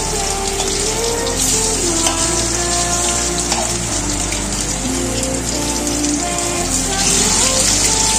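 Battered chicken pieces sizzle in hot mustard oil in a wok, a continuous crackling hiss like light rain, steady and close, with quiet music beneath.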